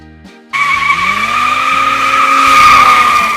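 1984 Ferrari 288 GTO driving, a sudden loud burst of engine and tire noise that holds steady with a whining tone and rising intensity, heard close and alone.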